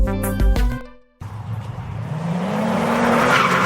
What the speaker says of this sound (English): Wait, let's rush there by car.